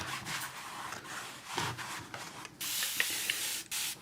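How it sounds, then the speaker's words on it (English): Short hissing bursts of a spray bottle misting water onto the back of a painting canvas, mixed with brushing and rubbing scrapes; a longer spray near the end, no voices. "I'm going to go ahead and spray this. We can spray our canvas as you're working at any stage. I'm going to spray the back of it."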